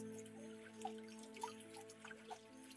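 Water trickling in a small forest stream, a quiet, steady flow with soft drips and gurgles close by.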